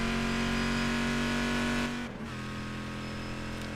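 Onboard engine roar of a race car in a sim racing game at the Daytona International Speedway Roval, a loud sustained drone that drops in pitch briefly as the car shifts or lifts, then continues.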